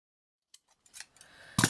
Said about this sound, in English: So I'm going to cut this off to start with, right near the edge.